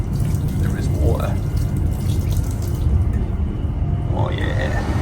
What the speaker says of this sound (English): Your hand under here. There is water.